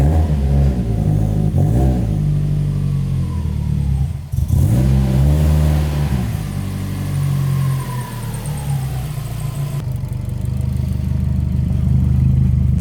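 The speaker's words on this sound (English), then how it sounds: "Definitely sounds less like a boxer engine." Subaru boxer engine fitted with an upgraded exhaust, revving loudly and close by. It rises and falls through several revs over a steady low drone, with a brief drop in between and a harsher rumble toward the end.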